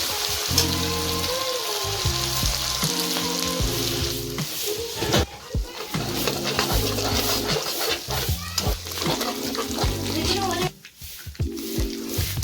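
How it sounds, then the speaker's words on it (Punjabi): Garlic, ginger and spices roast in hot oil for a tadka for Punjabi sarson da saag, a continuous close sizzle under intermittent music or background tones throughout. "ਲਸਣ ਅਦਰਕ ਮਸਾਲੇ ਨੂੰ ਚੰਗੀ ਤਰ੍ਹਾਂ ਭੁੰਨਾਂਗੇ"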